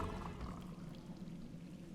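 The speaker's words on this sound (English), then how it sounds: "Like a little waterfall, rainy waterfall." A waterfall in the Ark Survival Evolved game, inside the central cave of The Island, gives a steady, soft rushing splash that continues without a break.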